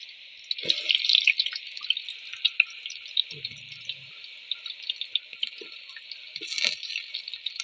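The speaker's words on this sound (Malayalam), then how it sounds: "അപ്പം നമ്മുടെ വെളിച്ചെണ്ണ നല്ലവണ്ണം ചൂടായിട്ടുണ്ടേ അച്ഛൻ ഒരു കായ് ഇട്ട് നോക്കിയിട്ടുണ്ട്" Raw banana slices from a fallen banana plant fry in hot coconut oil, giving a steady, crackling sizzle with a few soft knocks of utensils and no talking.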